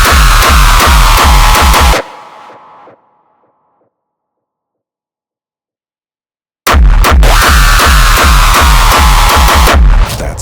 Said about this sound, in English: That's the final screech in context.